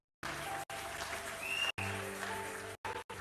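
A church congregation applauding after a sermon, a short burst of clapping that fills the room at a moderate distance, broken by brief gaps.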